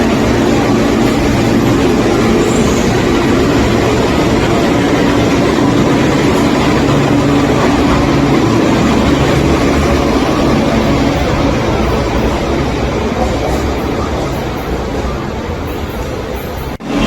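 An old Beijing Subway train on Line 1 or Line 2 rumbles along at steady speed, with a loud continuous roar and rattle of wheels on track from inside the carriage, and no talk.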